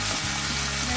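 Chicken frying in a pan with pepper, salt and ginger powder as it is stirred, a steady close sizzle with soft scraping and no talking.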